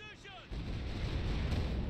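A Stuka dive bomber strikes in Company of Heroes 2, a descending siren whine giving way to a heavy, sustained rumbling blast that fills the rest of the moment, with a voice speaking over it.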